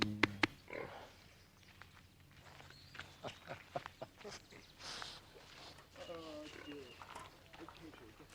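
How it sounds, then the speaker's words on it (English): A farm pig grunting and snorting at feeding time, short irregular grunts close by, mixed with people talking and shuffling movement. "Here's a good pig."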